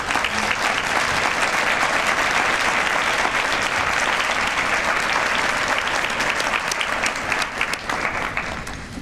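Sustained, dense applause from a town hall audience honoring Women's Commission members, steady and full throughout with no talking over it.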